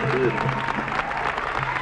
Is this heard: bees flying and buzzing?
no